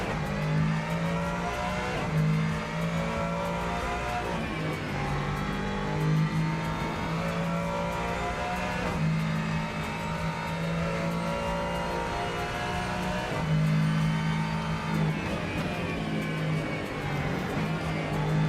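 A race car engine in the Rennsport racing game revs and drones continuously, pitch climbing and dropping through gear changes, loud and steady throughout with a harsh, rough edge.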